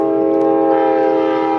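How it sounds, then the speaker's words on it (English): A train carrying sugar cane blasts its horn, loud and sustained, close by along a canal by a lock, with the rumble of the passing cars beneath it. "I don't know if you can hear that train"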